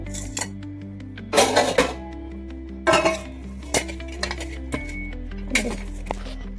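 A large plate is taken out for onions in a home kitchen, bringing clattering dishes and cutlery clinks. Several sharp bursts of crockery knocking stand out over a steady background hum.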